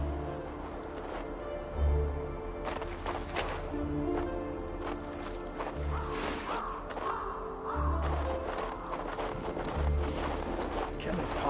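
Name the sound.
horse hooves clip-clopping in video game King's Bounty 2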